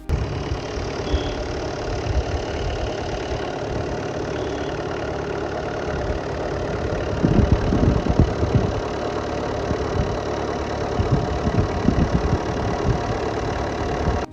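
A Tata Vista car engine idles steadily and loudly up close, with a continuous rumbling drone that swells slightly around the middle and holds to the end, with no voices.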